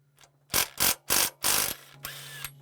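Ratchet wrench cranks in four loud, evenly spaced bursts of clicking pawl teeth while loosening the idler pulley bolt on an LS-based engine during timing chain work, then a few lighter clicks trail off, with no talking.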